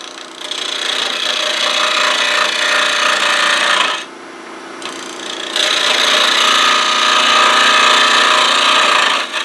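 Steady sawing on wood comes through loud and close in two long runs with a short break between them, without any talk.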